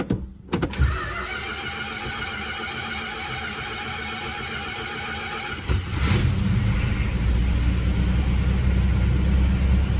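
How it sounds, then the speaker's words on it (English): A 1965 Plymouth Barracuda engine settles into a warm-up idle as a steady mechanical drone, and a deeper, fuller rumble sets in about six seconds in; a short clunk or two comes at the start, with no talking. "And there's your warm-up idle."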